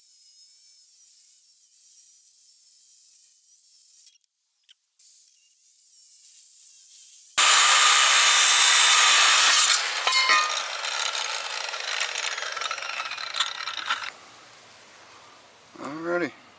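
A saw or cutting tool slices through a trailer tongue outdoors, a loud sustained harsh hiss of cutting that starts abruptly partway in, preceded by a quieter steady hiss, then fading to lower scraping noise near the end.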